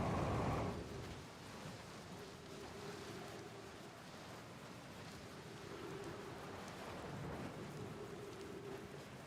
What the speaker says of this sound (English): Great, now we got lightning.